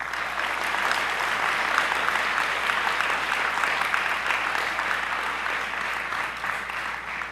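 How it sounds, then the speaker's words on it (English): A graduation audience applauds steadily at an evening ceremony, a dense, even wash of clapping that holds at full strength throughout and eases slightly only at the very end. "Give yourselves a round of applause."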